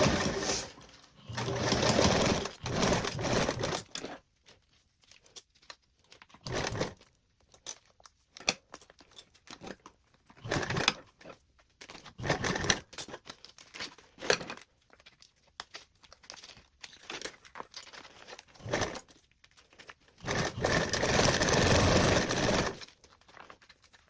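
Domestic sewing machine stitching a tote bag's zipper tape and lining at a quarter-inch seam around a curve, running in several loud bursts of steady whirring separated by pauses and quieter handling.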